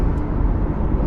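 A Corvette C8 E-Ray with a dual-clutch gearbox sits in neutral while its engine hums in a steady, close, continuous low drone, with no voices.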